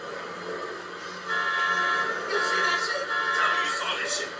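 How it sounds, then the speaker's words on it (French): Car horns honk in drawn-out overlapping tones over engine rumble in the video game GTA V, with a voice talking now and then; the honking swells louder partway through. "Pourquoi ils klaxonnent les gens?"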